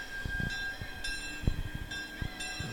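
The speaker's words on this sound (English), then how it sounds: "That loud noise you hear is a Vice Coast Company number 6 steam" A Vice Coast Company number 6 steam engine makes steady mechanical rumbling and hissing with a sustained high whistle-like tone, punctuated by thumps and clanks, loud and close, at a Christmas parade.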